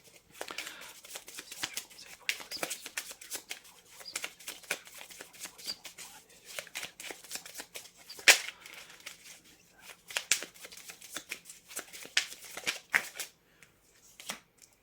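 Tarot cards shuffled close up in quick irregular riffling bursts, crisp slapping flutters that continue for about fifteen seconds with brief pauses, no talking.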